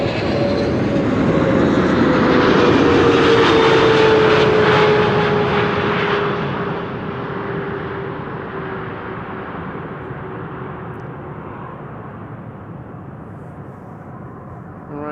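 Airliner PH-BVD touches down at Amsterdam Schiphol on a frosty day, a loud close jet roar with a falling engine whine that peaks early, then fades to a lower rumble as it rolls out.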